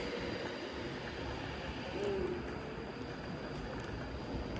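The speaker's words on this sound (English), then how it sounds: "There goes the train we've just brought in, 390043." Class 390 electric passenger train, unit 390043, pulling away from a station platform, a steady rumbling roll with a brief tonal squeal midway, moderately distant under open-air ambience.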